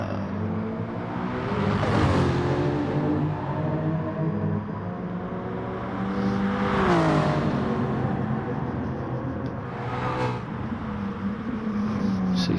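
A race car engine in a racing game winds up through the gears after leaving the pit exit, with a steady drone and rising revs that peak three times as it shifts and builds speed.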